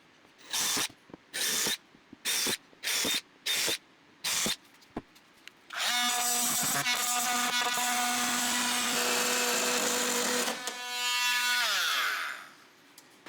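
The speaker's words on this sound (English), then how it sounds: "Not as smooth as I would like with that multi-tool, but it is working." An oscillating multi-tool cuts a storage hatch opening in a jon boat, first in several short buzzing bursts, then in one long, loud, continuous cut with a shifting whine that rises near the end.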